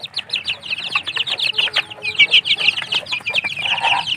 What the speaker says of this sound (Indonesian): Sehat-sehat ayamnya.